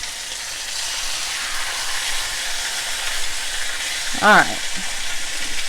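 Pork chops sear in a garlic skillet with a steady, close hiss of frying, and a voice speaks briefly near the end.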